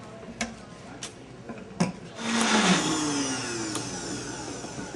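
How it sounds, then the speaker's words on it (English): A few sharp clicks, then a Vitamix high-speed blender motor whirs up to speed and keeps running with a steady, high-pitched roar. "You just put all that in your blender or your Vitamix."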